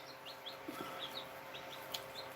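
Australorp chicks chirp in a scattered series of short, high peeps, small and fairly faint over steady background noise.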